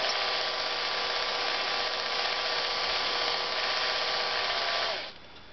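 A drill hums steadily and fairly loudly while winding wire into a small spring, running without a break for about five seconds before winding down into a quieter background.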